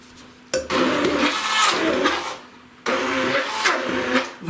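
A kitchen blender whirs through chunky homemade cottage cheese in two loud, close bursts, each running steadily for a couple of seconds with a brief pause between them.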